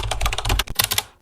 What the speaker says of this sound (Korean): 이런 식으로 2번 정도 치는 키보드 소리가 있어요